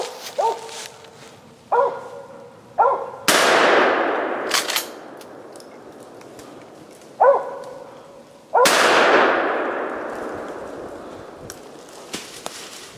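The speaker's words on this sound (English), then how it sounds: "25 shots later, Delmar." Gunshots while squirrel hunting into a hemlock in the woods, two loud sharp reports each followed by a long echoing decay, with dog barks before each shot.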